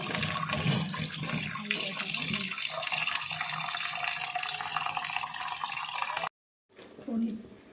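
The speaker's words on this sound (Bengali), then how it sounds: "ছানাটা আমি কাটিয়ে নিয়েছি, দুধ দিয়ে ছানা করে নিয়েছি। এটা আমি জল দিয়ে ধুয়ে নেব।" Fresh chhana made from milk is rinsed under a steady running tap, water splashing continuously for several seconds before cutting off, then a brief burst of handling noise.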